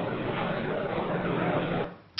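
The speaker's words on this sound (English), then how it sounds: "and crowd noise" Synthetic crowd-noise texture generated from noise: a broad, murmuring babble that fills the clip steadily, then fades out near the end before a short sharp click.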